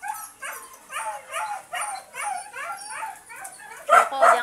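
Pet dogs close by yip, bark and whimper in quick repeated bursts, a string of high-pitched whiny cries that end with a couple of louder barks.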